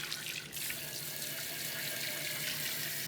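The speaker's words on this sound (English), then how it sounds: "I'm just going to put them into my sink and run some hot water." Hot water runs steadily from a tap into a sink, a loud, continuous close-up splashing rush that holds unbroken from start to finish with no voices.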